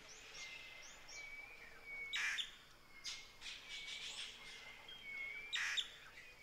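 Birds by the Huatulco River, giving clear whistled chirps and a few harsh squawks in separate calls, fairly near but quiet, over a faint steady background.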